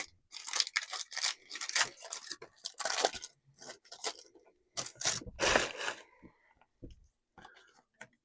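1992 Upper Deck football card packs are torn open close up, with bursts of crinkly wrapper tearing, shuffling and crunching between short quiet gaps.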